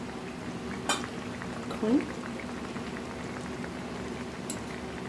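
An omelet simmers in curry gravy, giving a soft, steady bubbling close by with a couple of brief clinks and a short vocal sound.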